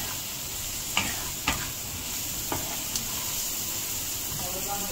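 Onions with salt frying in a pan for boondi kadhi give a steady soft sizzle, broken by a few light spoon taps and scrapes, close and moderate, without speech.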